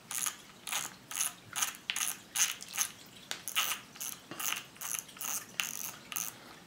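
A fishing reel's drag is tightened, giving about two dozen quick, bright ratchet clicks in a steady rhythm. The clicking is close and clear, with no talk over it.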